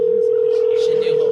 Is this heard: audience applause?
no